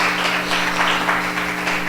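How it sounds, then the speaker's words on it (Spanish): Church congregation applauding during a Spanish-language sermon, a short stretch of steady clapping heard over a low hum. "Denle un aplauso al Señor"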